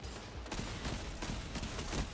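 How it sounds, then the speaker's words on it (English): Dense, continuous Destiny 2 PvP gunfire from a Malfeasance hand cannon, with a cluster of loud cracking shots running through the whole stretch amid busy game noise, no voices. "we hit him with the body shots right there"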